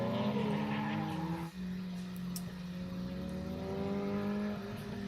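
A drift car runs the course at Mineral Wells, its engine holding a steady, droning note with harmonic pitch shifts as it revs and slides. The sound is fairly faint and distant and carries on without a break.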